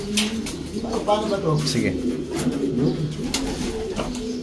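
Racing pigeons coo in a loft, low throaty calls repeating close by while someone speaks briefly over them.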